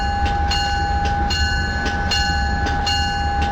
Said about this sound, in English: And trains pull out of Union Station like this pretty slow.